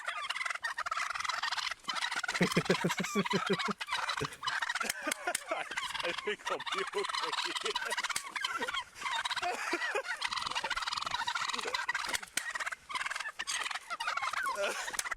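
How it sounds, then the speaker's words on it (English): A flock of turkeys gobbles loudly and continuously in rapid rattling bursts, close by, with a voice briefly speaking underneath. "This cop was getting bullied by some turkeys."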